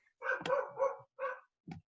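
A pet dog at home lets out four short, sharp barks in quick bursts, close and loud, with brief pauses between them and no talking.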